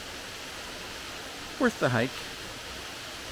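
A roughly 80-foot waterfall in the Blue Ridge Mountains in autumn gives a steady, even rush of water throughout, while a voice briefly speaks a short phrase over it midway.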